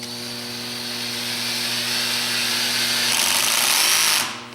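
A cordless drill drives a screw into wood with its clutch set to 5, giving a steady, loud motor whine that runs throughout and cuts off abruptly near the end.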